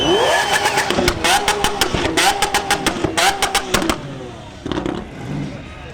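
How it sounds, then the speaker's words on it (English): A Liberty Walk-modified Lamborghini drives out in a car show roll-out cruise, its engine revving in loud, rising bursts with a run of sharp pops, then easing off; people talk over it. "There's our Liberty Walk Lamborghini with Cocktail driving it."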